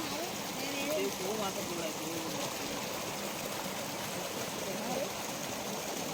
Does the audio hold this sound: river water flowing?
yes